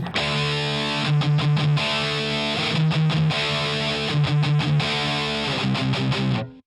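A heavily distorted electric guitar, played through a distortion pedal, amp and cab simulation, plays chugging chords and short riffs, loud and sustained, with brief stops between phrases and no talking.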